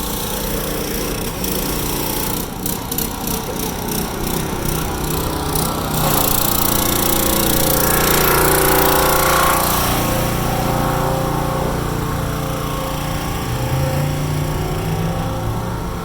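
A pressure washer runs loud and close, its engine droning continuously with a rough, steady roar that shifts slightly in tone partway through, and no voices are heard.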